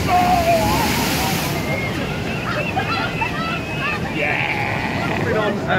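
The Poseidon water coaster boat at Europa Park splashes through water, giving a broad rushing slosh with wind buffeting the microphone, and excited voices are heard over it.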